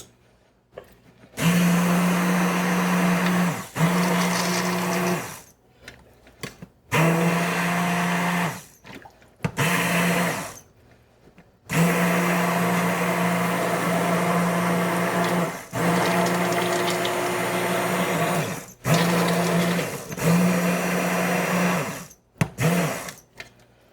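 A blender blending vegetable soup whirs in repeated bursts of several seconds each, separated by short pauses, loud and close.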